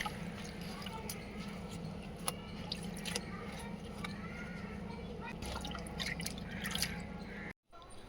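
Water drips and splashes while leafy greens are rinsed by hand in a home kitchen, with irregular small plops and trickles over a low steady hum, fairly quiet and close, ending in a brief dropout.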